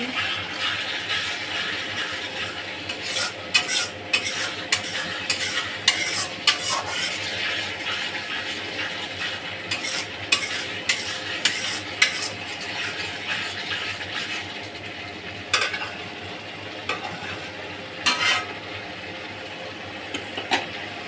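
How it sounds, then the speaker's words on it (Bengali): Masala spice paste stir-fried in a pan with a quiet background sizzle and many sharp clinks and scrapes of a spoon against the metal pan, irregular and close, with no speech. "মশলাটা আমার প্রায় কষানো হয়ে এসছে। আর একটু কষাবো।"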